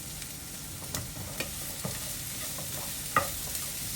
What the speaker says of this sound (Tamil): நல்லா வெங்காயம் வதங்கி வைப்போம்.